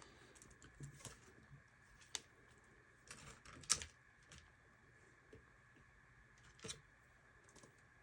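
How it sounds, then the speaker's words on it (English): An HP 640 G3 laptop keyboard being unclipped and lifted out, giving scattered faint plastic clicks and a few sharper snaps over quiet background, with no talking. "Now you can remove the keyboard."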